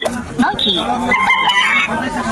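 A children's learning toy plays a recorded rooster crowing when a card is inserted, bright and close, clucking notes mixed in over a couple of seconds.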